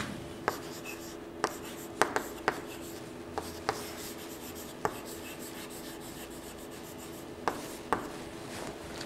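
Chalk or a marker scratches and rubs across a classroom board. Short strokes are broken by sharp taps at irregular intervals, with steady room noise behind and no voice.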